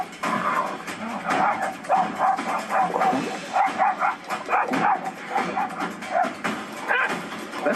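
A two-year-old terrier mix barks repeatedly in quick, yappy bursts, close and fairly loud, with a few whimpering yips mixed in and faint voices in the background.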